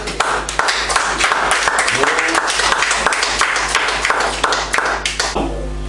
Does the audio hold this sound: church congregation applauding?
yes